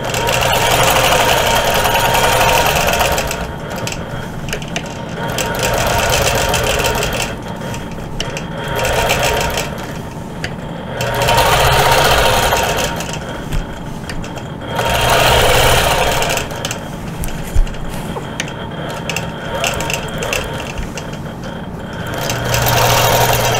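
A sewing machine stitches a quilted feather and crosshatch border in loud, close bursts of rapid whirring and clatter lasting several seconds each, separated by short pauses while the fabric is repositioned.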